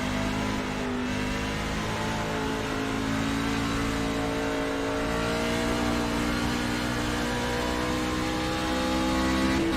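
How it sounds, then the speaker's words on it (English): A race truck in an SRW Trucks racing game at Kentucky drones with a steady, loud engine tone and layered harmonics, holding near and constant throughout without voices. "there's a car approaching"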